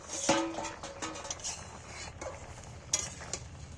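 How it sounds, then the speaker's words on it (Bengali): Jackfruit curry stirred in a metal pot on the stove, a spoon scraping and clinking against the sides in a few short, fairly close strokes amid soft background noise, with no talking. "এবার আমি একটু নেড়ে দিচ্ছি"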